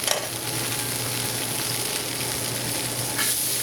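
Fresh butter sizzles in a skillet where beef drippings remain, a steady bright crackling hiss running throughout at close range, with a sharper burst near the start and no voices.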